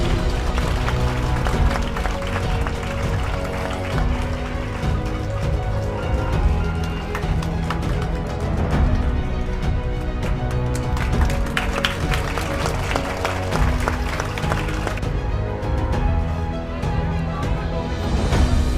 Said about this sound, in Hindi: जोरदार तालियां आप लोग बजाते रहिए।